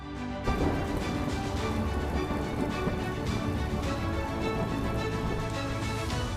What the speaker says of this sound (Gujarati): કચ્છમાં બીજા દિવસે પણ વરસાદી માહોલ